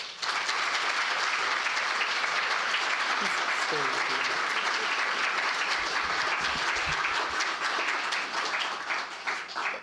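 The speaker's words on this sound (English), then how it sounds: "A very worthy round of applause." An audience at an education and reconciliation event claps after a guest speaker. The applause is loud, dense and sustained for about ten seconds, with a few voices briefly audible beneath it.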